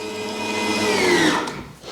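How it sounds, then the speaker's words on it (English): An electric meat grinder forces sausage meat through an 8 mm plate, giving a loud, steady motor whine whose pitch sags under load before easing off. "I will grind it again through the 8 mil blade"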